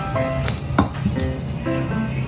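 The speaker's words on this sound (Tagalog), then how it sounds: "Maghiwa ta ni atong lamas." A knife chopping spices on a board, a few quick cuts with short pauses between them, close and fairly loud over a steady background hum.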